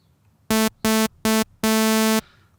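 Four bright, buzzy tones from an initialized Serum synthesizer patch sound alone, three short beeps followed by one longer held note, each with a raw, hollow timbre.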